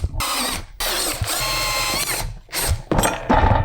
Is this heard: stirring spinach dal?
no